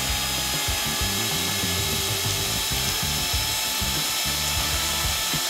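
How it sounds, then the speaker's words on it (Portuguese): An electric hand mixer beats cream cheese into condensed milk for a no-bake rainbow cheesecake, giving a steady, close mechanical whir with a rapid ratcheting rattle from the beaters, uninterrupted for several seconds. "Agora vamos misturar tudo. Para isso, eu vou usar... nossa batedeira."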